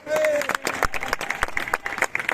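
Crowd applause and scattered clapping at a street procession of the Cereo dei Macellai climbing Via San Giuliano in Catania, steady and fairly close, with a shouting voice over it.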